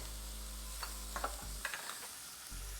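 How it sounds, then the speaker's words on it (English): Minced garlic, about a tablespoon, sautés in a pan alongside bell pepper, giving a steady low sizzle with a few soft stirring scrapes and clicks partway through. "Next, we're going to add about a tablespoon of minced garlic."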